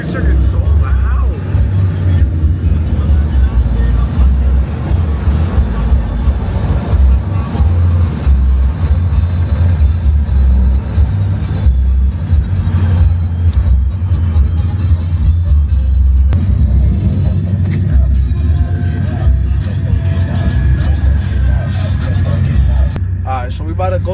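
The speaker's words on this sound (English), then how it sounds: "this motherfucking truck is so loud" A loud pickup truck at a truck meet in Montana, its engine producing a heavy, continuous low rumble that stays close and strong for the whole stretch, with voices talking over it.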